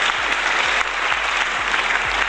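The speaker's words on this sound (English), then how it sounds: "please rise for a standing applause, a standing ovation for the icon of Indian cinema" A large audience gives a standing ovation at a film carnival, steady loud clapping throughout with no break.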